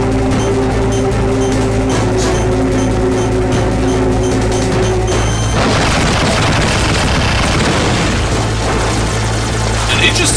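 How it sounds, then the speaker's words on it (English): Liquid Snake's Hind D helicopter fires missiles in a video game: a steady rotor-like drone gives way to a loud, sustained burst of explosive rumble and crackle. "Oh god, he's going with the missiles."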